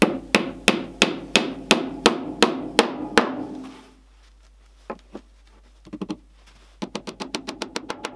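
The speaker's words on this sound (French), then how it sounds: "clouer des clous aussi petits et aussi fins que ça," Hammer driving small, thin nails into pallet wood for a Christmas tree build, in sharp, loud, evenly spaced blows, a run of about ten strikes, a pause with a few scattered taps, then a quicker burst of light strikes.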